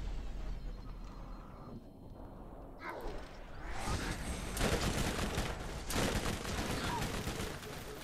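Turrets firing in the video game Borderlands: after a muffled mechanical stretch, a dense, loud fusillade of rapid gunfire breaks out and keeps going with harsh blasts and crackling, filling the rest of the moment.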